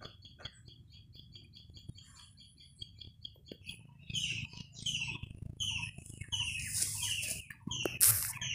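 Chickens clucking nearby in an outdoor yard with a baby monkey around, short repeated clucks and chirpy calls that grow busier and louder toward the end.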